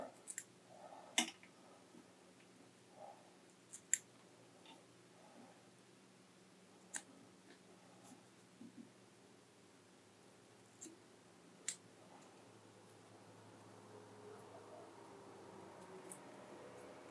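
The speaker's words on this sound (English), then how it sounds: "I'm going to clean it up with the scissors" Small scissors trim fly tying material at a vise, giving a scattering of quiet, sharp snips and clicks at irregular intervals against a faint, hushed background.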